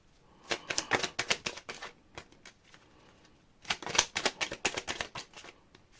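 A tarot card deck is riffle-shuffled close by in two quick bursts of rapid, crisp fluttering clicks with a brief lull between them.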